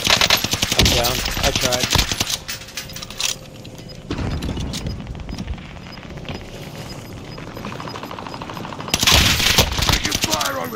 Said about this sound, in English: they're all fucking shooting at me right now, not each other